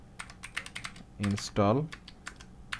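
Rapid typing on a computer keyboard, a steady patter of close key clicks with brief pauses, while a person speaks briefly partway through.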